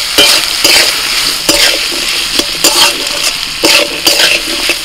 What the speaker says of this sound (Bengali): সবজিগুলোকে ভাজতে থাকবো